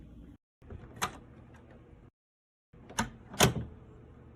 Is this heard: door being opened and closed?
yes